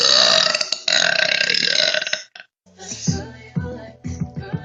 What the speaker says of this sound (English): I don't need anything to burp. I just do it on command.